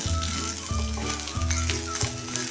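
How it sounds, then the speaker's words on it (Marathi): Ridge gourd peels roast in a hot pan with a constant close sizzle and light crackling, a few faint clunks of the pan or spatula underneath. "भाजून घेऊया त्या शेरांचा कच्चापणा कमी होईपर्यंतच"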